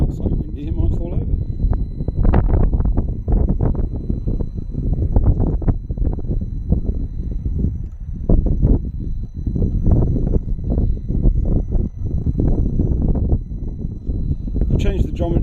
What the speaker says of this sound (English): It's just very, very windy.